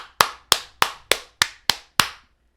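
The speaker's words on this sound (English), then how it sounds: "Oh, we clap now?" Seven sharp hand claps in an even rhythm, close and loud, each one crisp with a quick decay, followed by silence.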